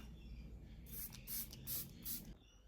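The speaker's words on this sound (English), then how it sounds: "Spray with setting spray." Four short bursts of setting spray misted onto a face, quick hissing puffs in a row over a quiet room background, close and soft.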